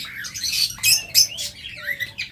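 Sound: a pair of pet birds, one blue and one violet, squawking

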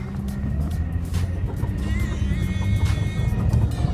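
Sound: Jaguar X-Type 2.5 car accelerating

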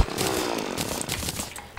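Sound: chainsaw cutting tree in video game Terraria

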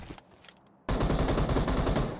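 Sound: gunfire from an enemy in the video game PUBG Mobile

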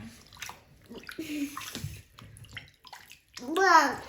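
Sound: water running while wetting a child's hair in the bath

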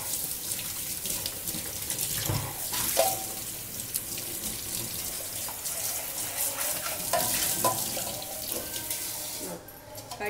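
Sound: washing vegetable slicer parts under running tap water

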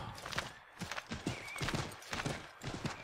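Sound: horse galloping in a video game

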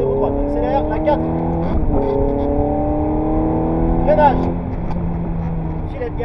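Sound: Ferrari F430 accelerating on race circuit in fourth gear

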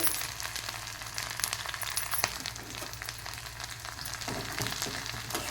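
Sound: curry leaves frying in peanut oil

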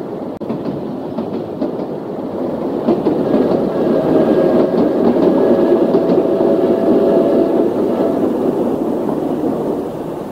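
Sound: Perth railcar train passing station and level crossing

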